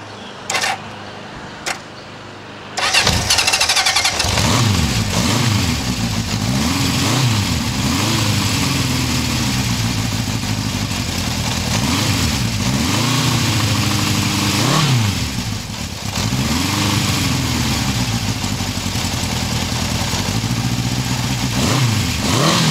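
A 1972 Honda CB750 K2 motorcycle cranks with a few clicks, then fires up and settles into a steady, loud, close idle with periodic gentle revs rising and falling, running slightly low.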